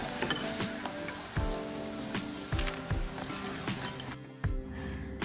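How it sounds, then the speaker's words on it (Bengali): Urad dal vadas deep frying in hot oil give a steady, close sizzle with crackling pops throughout, briefly interrupted near the end before the bubbling resumes. "এই বড়াগুলোকে আমি ভেজে নিয়েছি তো এখন আমি এগুলোকে তুলে নিচ্ছি আর বাদবাকি বড়াগুলোকেও একই রকমভাবে ভেজে নেব"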